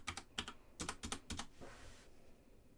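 Typing on a computer keyboard while entering a price into a database, several quick bursts of clicky keystrokes close up, followed by quieter background noise.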